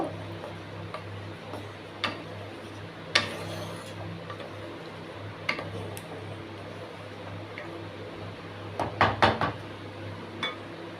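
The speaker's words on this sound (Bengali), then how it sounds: "সেদ্ধ করা মুগ ডালটা ছেড়ে দেব। একটু ভালো করে নেড়ে চেড়ে নেব।" Boiled moong dal stirred in a pan for a Bengali fish-head dal, with a spoon giving sparse metallic clinks and taps over a low background hum, then a quick cluster of knocks near the end.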